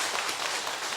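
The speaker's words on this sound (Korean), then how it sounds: "인도하신 분 같이 일어나셔서 박수 한번 쳐주십시오." A church congregation claps together at a Korean worship service. About a second of steady, dense applause is heard, moderately faint and with no voices.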